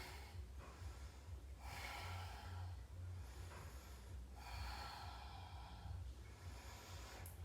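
Deep breaths drawn in and let out during a sphinx pose in a yoga flow, several slow breathy swells with sharp snort-like inhales, close and quiet over a low steady hum, no talking.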